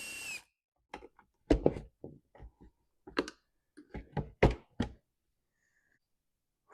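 A used chainsaw's plastic case being pried and split apart, a string of sharp irregular clicks, snaps and knocks close up with quiet gaps between them.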